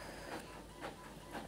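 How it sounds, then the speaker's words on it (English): Home printer running quietly in the background, giving three evenly spaced soft swishing passes of the print head roughly half a second apart over a low hum. "I'm really sorry you can hear my printer in the background."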